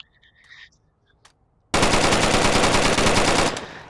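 An MK16 rifle in a video game fires a long full-auto burst, loud and rapid with even rhythm, starting abruptly after a quiet moment of faint clicks and lasting nearly two seconds before cutting off.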